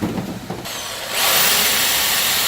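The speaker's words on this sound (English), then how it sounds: "Start the drill bit." A power drill drilling into wood whirs up to speed, starting with a quieter mechanical rattle and then settling into a loud, steady, high-pitched drilling whine.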